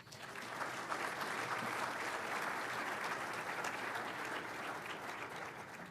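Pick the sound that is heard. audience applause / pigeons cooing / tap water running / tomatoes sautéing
audience applause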